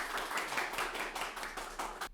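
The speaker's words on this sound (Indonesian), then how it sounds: "Boleh dong teman-teman tepuk tangannya buat Pak Fauzi" A small group of students claps for a vocational school teacher, quiet and fairly distant, with rhythmic hand claps lasting about two seconds before stopping abruptly.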